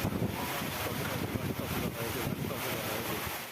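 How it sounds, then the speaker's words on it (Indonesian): Heavy rain and strong wind batter a wedding tent in the village of Polorejo, a constant loud roaring wash of noise with gusty swells throughout. "tenda pengantin diterjang hujan deras disertai angin"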